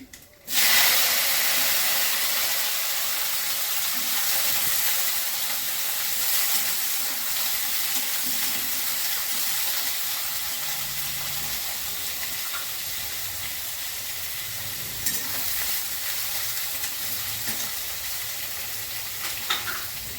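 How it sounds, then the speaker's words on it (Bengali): Dried red chilies, black cumin seeds and eggplant pieces frying in hot oil, giving a loud, continuous sizzle right from the start, with occasional stirring scrapes and no talking. "শুকনো লঙ্কা ফোড়ন করছি কালো জিরে দিচ্ছি বেগুন দিয়ে দিচ্ছি"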